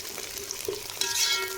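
Oil sizzling in a pan as ingredients are sautéed for a mutton biryani, a soft steady frying hiss with a brief stir partway through, fairly quiet and with no talking.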